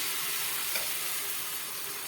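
A steady, soft sizzle and hiss of sweet wheat-flour pudla batter cooking on a hot nonstick griddle, continuous throughout with no voices.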